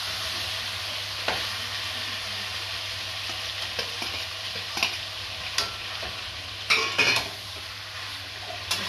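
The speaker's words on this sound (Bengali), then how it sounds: "সুন্দর করে কষাবো।" Garlic and ginger paste sautéing in a pan for chicken curry, a steady sizzle and fry with a spoon scraping and clinking against the pot several times, louder clatters near the end, no voices.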